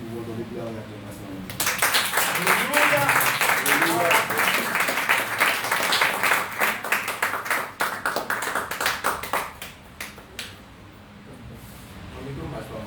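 A thanksgiving church congregation breaks into loud, sustained applause with some rhythmic clapping and voices mixed in, then tapers into scattered claps before quieting near the end.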